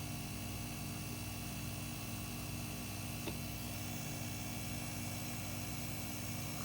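An LG washing machine's inverter motor runs with a steady, even hum and layered tonal drone at constant level throughout, alone without talking.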